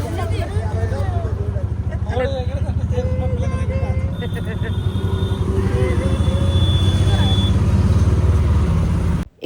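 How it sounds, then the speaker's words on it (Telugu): An auto rickshaw engine runs throughout a village ride, a loud, steady puttering rumble close by, with people chatting over it and occasional horn-like tones from passing traffic. "ఆటోలో ప్రయాణం"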